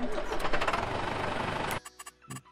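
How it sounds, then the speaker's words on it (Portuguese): Valmet tractor engine starting in Farming Simulator 22, a loud cranking rumble for under two seconds that then cuts off, followed by a few faint clicks. "esse trator tem um ronco muito alto"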